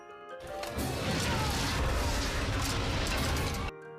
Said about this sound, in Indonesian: Seketika tongkat dari bambu itu pun hancur tak tersisa